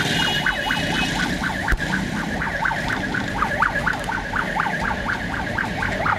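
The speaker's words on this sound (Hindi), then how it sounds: "पुलिस का सायरन जारी है" A police car siren wails continuously in a steady rising-and-falling cycle, loud and close amid street traffic noise.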